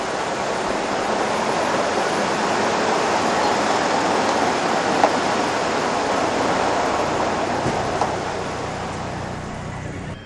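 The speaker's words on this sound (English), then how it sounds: "The only sound, the rhythm of the waters of the River Dee" The River Dee in Royal Deeside, Scotland, flows in a steady, loud, unbroken rush of water that fills the whole scene, with no voices.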